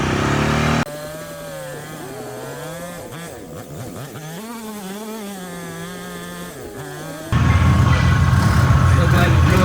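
An Arctic Cat off-road vehicle runs on a dusty trail at Hog Waller, its engine roaring loud and close at the start and end. In between, a wavering high whine plays under a person's talk.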